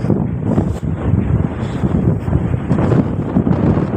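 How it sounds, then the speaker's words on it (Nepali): Strong gusting wind buffets the microphone on a Cyprus coastal walk between Ayia Napa and Limassol, producing a loud, continuous low rumble with fluctuating bursts and no clear voices. "यस्तो हावा चलेको यस्तोमा भिडियोहरू पनि राम्रो आउँदैन क्या"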